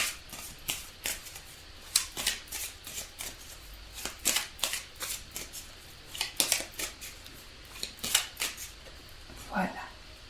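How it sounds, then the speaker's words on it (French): Tarot cards shuffled by hand, giving a steady run of crisp papery riffles and snaps, close and fairly loud, with a voice speaking now and then. "Donc je mélange la carte conseil du jour."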